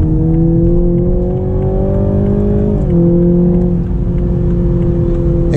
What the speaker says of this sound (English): We'll get down to second, and we will accelerate.